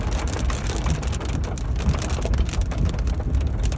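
Heavy rain and hail pound steadily during a storm chase near a possible rain-wrapped tornado, a dense loud roar of drumming impacts with no speech.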